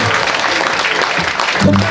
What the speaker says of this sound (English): Give a round of applause for Mr. Robert Dillon and the kid behind me